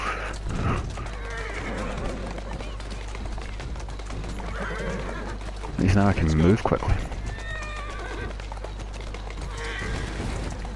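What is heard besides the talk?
horse carriage in video game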